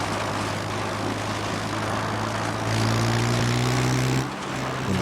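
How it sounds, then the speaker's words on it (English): A Russian helicopter flies in the Arma 3 military game, its engine a steady low droning hum with a rising whine partway through, holding near and constant before dipping briefly, with no talk over it. "Russian chopper."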